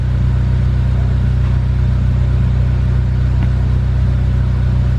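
Turbocharged single-cam Honda Civic EG hatchback engine holding a loud, steady, droning rev during a pull, with a dense low rumble throughout and no talk.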